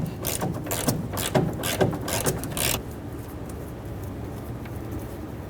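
An 18mm rear shock mounting nut is worked off a 1999-2001 Ford Ranger 2.3L, giving close rapid ratcheting or rattling clicks for under three seconds. Quieter background follows.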